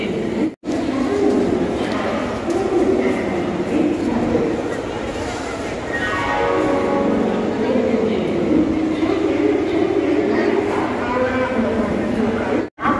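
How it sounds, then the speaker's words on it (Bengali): Loud ambience on a Howrah railway station platform: a dense crowd murmur, voices nearby, rail noise and a long tonal horn or announcement rising through the middle. "আমরা এসে পৌঁছে গেছি হাওড়া রেলওয়ে স্টেশনে"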